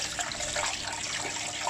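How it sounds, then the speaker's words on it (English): Running tap water splashes steadily over hands being rinsed at a sink, close and continuous for a brief moment. "So I'm just going to rinse my hands off."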